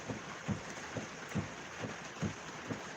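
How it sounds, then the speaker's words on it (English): Heavy rain falls steadily during an early morning thunderstorm in southern Iowa, a constant broad wash with soft low thumps recurring about every half second, close and even, with no voices. "it's a pretty heavy rain down here in southern Iowa"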